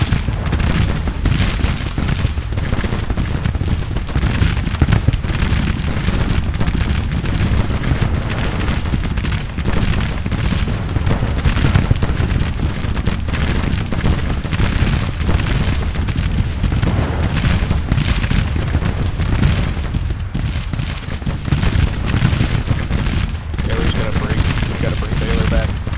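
Musket volleys in the Civil War strategy game Grand Tactician: The Civil War, a dense, continuous crackle of gunfire and booming shots lasting throughout, with a voice talking over the battle.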